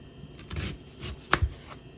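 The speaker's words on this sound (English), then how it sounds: "Just slice it, little thin slices to put on top of my steak" A knife slicing food into thin slices for topping a steak, a few soft close cuts with one sharper tap on the board, brief and quiet with no talk.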